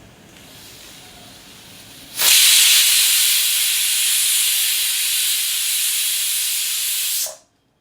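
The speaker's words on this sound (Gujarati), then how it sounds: "દૂધીનું કુકર થઈ ગયું છે એટલે કે એની સીટી વાગી ગઈ છે" A pressure cooker whistle: a loud, steady hiss of steam bursts in after a quiet stretch, holds for about five seconds, then cuts off abruptly.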